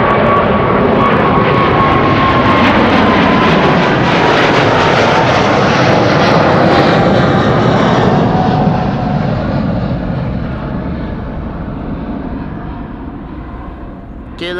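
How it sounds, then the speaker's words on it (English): A KLM airliner, registration PH-BVU, departs Amsterdam Schiphol for Panama City with a loud, sustained jet engine roar that stays strong and then slowly fades as it climbs away. "KLM flight 757 to Panama City"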